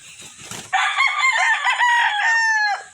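Lemon-colored straight comb rooster, one loud crow ringing out close by after a brief cluck at the start.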